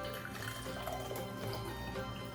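Brewed Moroccan mint tea is poured through a strainer, a steady splashing trickle of liquid running continuously at close range with no talk.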